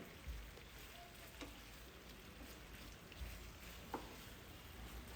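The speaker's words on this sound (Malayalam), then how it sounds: "ഇനി നമുക്ക് ഇതിലിട്ടിട്ട് നന്നായിട്ട് ചിക്കൻ ഒന്ന് കോട്ട് ചെയ്തെടുക്കാം കണ്ടല്ലോ ഇതുപോലെ എല്ലായിടത്തും ഇളക്കി ആക്കി കൊടുക്കാം" Chicken is stirred in a pan to coat it in sauce, with soft sizzling throughout and occasional faint scrapes and clinks of the spoon. Quiet and close, no voices.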